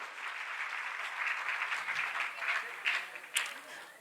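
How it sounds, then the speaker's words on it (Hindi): A gathering in an assembly hall in Indore gives a welcoming round of applause, moderately distant clapping that swells and fades, with a couple of sharper nearby claps near the end. "जय किशन ढींगरा जी, जोरदार तालियों के साथ स्वागत।"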